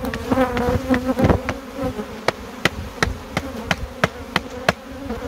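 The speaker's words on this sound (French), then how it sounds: "on va remettre les abeilles dedans" Honeybees buzz and drone steadily up close while being returned to a hive, with a run of sharp regular knocks or taps joining partway through.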